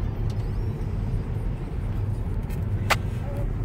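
A car on the road heading to someone's workplace, giving a steady low engine and road rumble inside the cabin, continuous and moderately loud with a brief brighter noise burst near the end.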